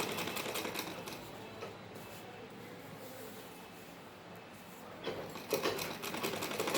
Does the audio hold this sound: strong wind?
no